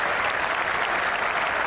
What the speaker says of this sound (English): A little clap there for Flintoff from Warne